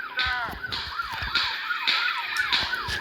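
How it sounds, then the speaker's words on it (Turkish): A video game police car siren wails in rapid rising-and-falling sweeps, loud and close, with short chirps and whooshes mixed in. "hızlı polis arabası geçti."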